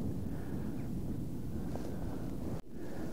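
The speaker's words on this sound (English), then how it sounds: "Oh, wind's blowing." Steady wind buffets the microphone on a beach during metal detecting, a continuous low rumble with faint surf underneath, briefly dipping near the end.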